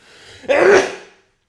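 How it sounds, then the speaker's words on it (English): A single loud, close sneeze: a brief rising inhale that bursts into a strong, breathy explosion, then fades quickly. "Hold on, I got to sneeze."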